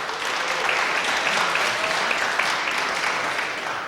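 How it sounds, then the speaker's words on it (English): An audience at a career day event claps for the events director who put on the previous night's show, a dense, steady patter of many hands held at an even level throughout, with no voices over it. "give Langan a little additional clap for last night."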